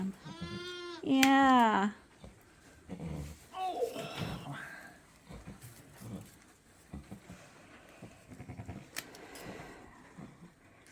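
A lamb bleats twice in a wavering, quavering cry up close at the start, followed by people talking quietly with a few fainter animal noises and handling sounds on a sheep farm.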